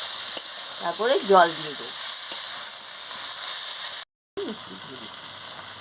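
Jackfruit curry sizzles and fries in a pan while it is stirred, with scraping strokes partway through, a short gap, and a person speaking over the steady hiss.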